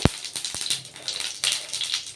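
Cumin seeds sizzling in hot mustard oil, a soft crackling hiss with a few sharp pops at the start, steady and close with no voices.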